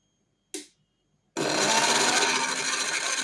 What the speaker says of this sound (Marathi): मिक्सरला बारीक वाटून घेतले।